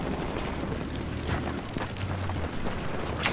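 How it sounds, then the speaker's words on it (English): A cruise missile explodes in Battlefield 4 on the Operation Firestorm map, a deep rolling boom and rumble that fills the scene at steady loudness, with a sharper crack near the end. "Cruise missile just stole my kill."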